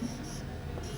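Marker or chalk writing a number on a board during a Hindi maths lesson, a steady soft scratching stroke lasting about a second with no talk over it.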